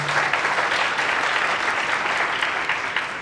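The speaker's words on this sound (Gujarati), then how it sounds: "જોરદાર તાળી આપો." Crowd applause at a Rudraksh Shravan Yatra gathering, dense and sustained clapping from many hands for a few seconds, slowly tapering at the end.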